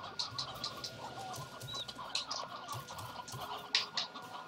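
Small chickens cluck and squawk repeatedly in the video game Slime Rancher, a busy flock of short, bright calls layered over a steady ambient hum, moderately loud and without talk.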